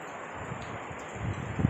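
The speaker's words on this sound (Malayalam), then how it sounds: "എന്താ നല്ല കാറ്റാണ്" Strong monsoon wind during heavy rain in Alappuzha, Kerala, heard as a steady broadband rush with leaves rustling and gusts that swell louder near the end.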